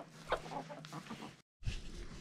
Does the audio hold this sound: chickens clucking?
yes